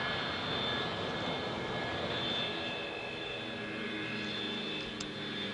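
An airplane at an airport, its engines producing a continuous, fairly loud roar with a whining tone, steady throughout with no talking.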